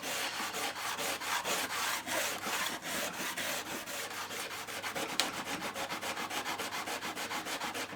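Rust is scrubbed off a corner of Scalextric slot car track with an abrasive cleaner block, making a continuous close, rhythmic rubbing and scraping of quick strokes that carries on without pause or speech.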